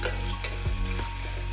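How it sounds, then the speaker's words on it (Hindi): Steady sizzle of onions frying in a pan, with a few soft scrapes of a spoon stirring through the hiss. "हमें प्याज को गोल्डन फ्राई कर लेना है।"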